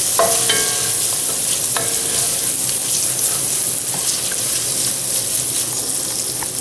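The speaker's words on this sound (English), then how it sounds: "And just kind of stir it around." Diced mirepoix is stirred around in leftover grease in a pan. Close, scraping clatter comes near the start, over a constant hissing sizzle.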